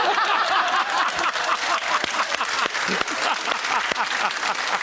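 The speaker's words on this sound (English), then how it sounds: "Round of applause." A studio audience at a cooking show claps steadily throughout, dense and fairly loud, with a few light chuckles mixed into the applause.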